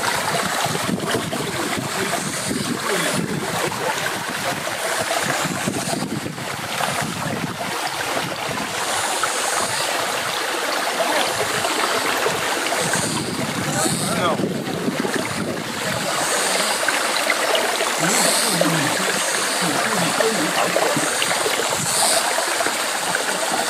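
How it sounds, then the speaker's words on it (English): Rushing river water on a travel outing, a continuous broadband wash with gusty wind buffeting the microphone throughout. "Look, there's a river over there."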